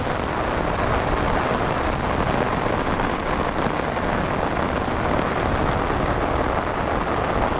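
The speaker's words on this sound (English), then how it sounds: "due to the heavy rain, my vision is getting kind of, I can't see anymore" Heavy warm rain pours down steadily and loudly outdoors, a dense, unbroken wash of drops that fills the whole stretch with no pauses or voices.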